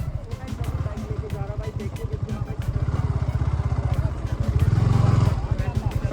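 A motorcycle rides off-road, its engine thrumming in a fast steady pulse that grows louder and strains near the end, with someone talking over it.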